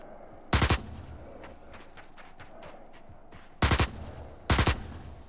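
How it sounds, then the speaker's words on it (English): Three separate bursts of gunfire in the video game Osiris: New Dawn, each a tight triple-shot burst, loud and close, with a quiet ambient background and faint clicks between shots. "One 3-round burst took out the level 1 crab."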